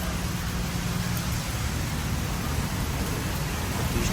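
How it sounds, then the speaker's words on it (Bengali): Heavy rain falls outside in a steady, dense broadband hiss that continues unbroken and fairly loud throughout, with a low rumbling undertone and no voices. "আর এখন বাইরে বৃষ্টি হচ্ছে, খুব বৃষ্টি"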